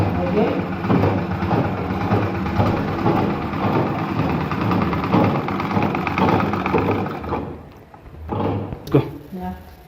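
Electric sewing machine worked with a foot pedal, running in bursts with a busy mechanical whir and rapid needle clatter up close, then slowing and stopping near the end; a voice talks over it.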